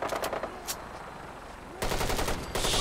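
A vertibird in Fallout 4 fires its mounted guns in rapid bursts, a short volley at the start and then sustained loud chattering fire near the end, with quieter gaps between.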